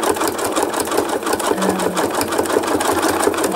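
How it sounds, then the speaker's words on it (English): Fast buzzing rattle of a sewing machine stitching thread art from a photo, a dense even chatter of needle strokes lasting throughout, close and loud. "I'll sit on one spot for a second and do a bit of a satiny stitch."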